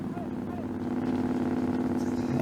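A race motorcycle running close alongside cyclists during a stage of the Tour Cycliste de la Martinique, a steady droning engine hum that holds throughout beneath a commentator's talk.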